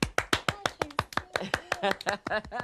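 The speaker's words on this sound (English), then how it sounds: "Let's give Hayley a clap." A small group clapping for a winner in a children's numbers game, a quick run of sharp, distinct claps close by, steady at first and growing looser and more overlapping toward the end.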